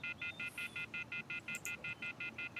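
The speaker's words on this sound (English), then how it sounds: "I took my cell phone and dialed the first number from my contact list." A cell phone in the video game Everlasting Summer dials a number, giving a steady run of about a dozen short, evenly spaced DTMF keypad beeps with no talking.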